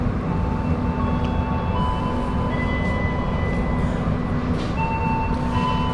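Parahyangan train rolling into Gambir station, a steady low rumble and hum inside the carriage with faint high tonal whines and squeals drifting in and out, no voices.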